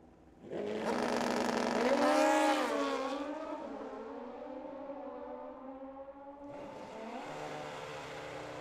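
Kawasaki drag-racing motorcycle at a drag strip, a loud high-pitched engine wail that surges and climbs in pitch through the gears, then fades and falls off before a second engine note rises near the end.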